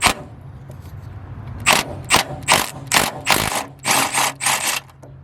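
A ratchet clicks while removing wheel nuts on a 1999 Nissan Pathfinder, with about ten loud, close bursts of rapid clicking in uneven rhythm over a low background hum.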